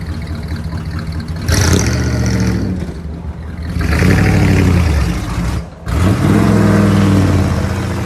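A 1964 Chevy C10 pickup with a 350 V8, shorty headers and Flowmaster Outlaw true dual exhaust barks through three loud revs, each rising and falling with a deep rumble, with a throaty idle between them and pops from backfiring.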